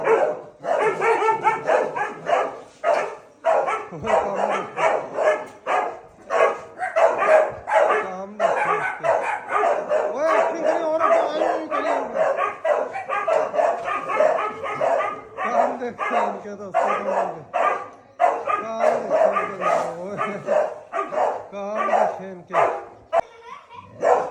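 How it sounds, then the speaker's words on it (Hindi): A dog barks repeatedly in bursts throughout, mixed with yips and whines, while people talk over it nearby. "गब्बर का इस पर भौंकना देखे, इधर तो ये देखे भौंकना।"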